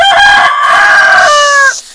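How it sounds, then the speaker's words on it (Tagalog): A rooster crows loudly and close by, one long drawn-out call with strong harmonics that trails off near the end. "ingay ni Tandang"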